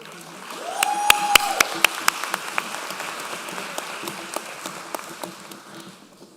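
Enthusiastic applause from a graduation commencement audience honoring medical school awardees, dense steady clapping with a few sharp louder claps near the start, a tone-like sound briefly sustained under it.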